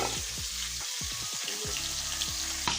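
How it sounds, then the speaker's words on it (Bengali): Pieces of fish frying in hot oil for a cauliflower fish-head curry, a steady crackling sizzle with a few spattering pops and light stirring, close and alone without voices. "তা মাছগুলো একটু ভেজে নিচ্ছি"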